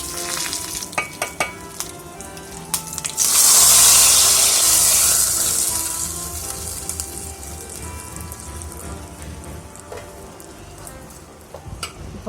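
Tempering spices crackle and sizzle in hot coconut oil for aviyal, with a loud burst of frying a few seconds in that slowly settles into steady sizzling and occasional stirring clinks.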